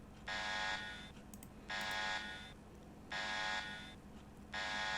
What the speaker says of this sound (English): With the alarm howling like this, it won't be too long before we attract some unwanted attention